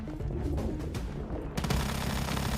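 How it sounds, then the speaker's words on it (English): Rapid automatic gunfire from a Gatling gun in the survival shooter game Once Human, a dense continuous burst that grows louder and harsher partway through, with no talking over it. "oh, there's the Gatling."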